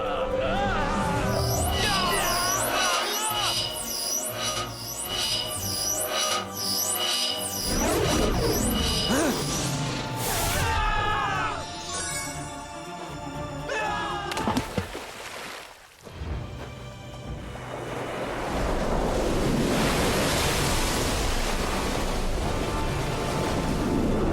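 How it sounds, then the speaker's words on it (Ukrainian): A magical Morphix wave attack from the Winx Club cartoon surges and crashes in a dense, roaring rush of water mixed with shimmering, sweeping magic effects, cutting off briefly midway before a heavy wash of noise returns. "Хвиля Морфіксу."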